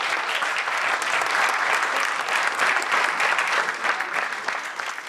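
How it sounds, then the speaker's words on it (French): Audience applause closing a day of auction sales at Artigny, a full, dense round of clapping from a large room that stays strong and steady, easing slightly near the end. "merci de vos applaudissements"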